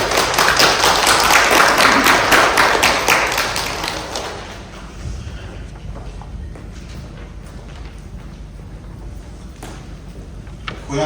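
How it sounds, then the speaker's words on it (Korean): A church congregation applauds to welcome a guest preacher at a Sunday worship service, dense clapping filling the room for about four seconds before fading into quieter room noise. "우리가 따뜻한 마음 담아 우리 박수로 환영해 주시면 감사하겠습니다"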